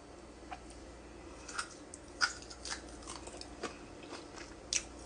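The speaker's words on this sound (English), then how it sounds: "We're going to take a bite." Someone bites into and chews a piece of cooked cow tongue, producing a series of quiet, irregular crunchy clicks close to the mouth against a faint background hiss.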